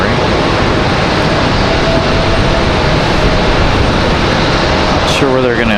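An airliner in Boston Red Sox livery moves at RDU airport, giving a loud, broad, steady engine roar that fills the whole clip.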